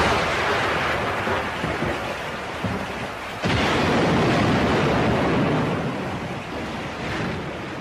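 Heavy rain with a deep, rolling thunderstorm rumble fills the scene, a loud and steady wash that swells again after a brief dip, with no voices.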